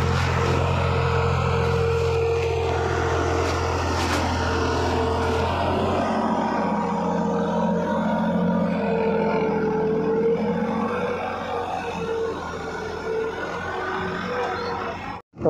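A New Holland 5620 Plus tractor runs under full load pulling a kraha land leveller, its engine giving a steady loud drone with a low rumble that eases after several seconds, continuous throughout.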